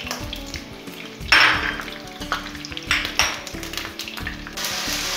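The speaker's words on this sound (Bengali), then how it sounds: "রসুনটাকে একটু ভেজে নেব" Garlic frying in oil in a pan for green chili pickle, a continuous sizzle with sharp bursts as it is stirred and the utensil clinks against the pan.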